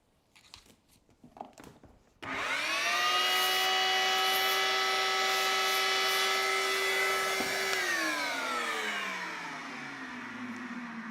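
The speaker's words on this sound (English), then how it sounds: "Let's vacuum that out real fast." A few knocks, then a vacuum cleaner switches on to suck drilling debris from an engine block, with a loud steady roar and whine, its pitch dropping slightly as it runs on.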